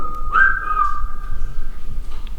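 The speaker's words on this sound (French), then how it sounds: "quand on ne fait pas attention, ça siffle." A sustained whistling tone heard inside a tunnel, a clear steady pitch holding for about two seconds with a brief upward swoop near the start, over quiet background noise.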